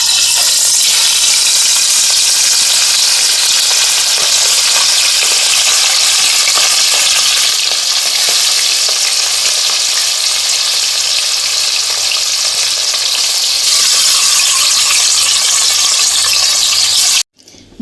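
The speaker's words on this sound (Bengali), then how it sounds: "মাছটা আবার আমি ভেজে নিচ্ছি।" Hilsa fish pieces frying in hot mustard oil in a kadai, a loud, steady, dense sizzle and crackle that runs unbroken for most of the time before cutting off abruptly near the end.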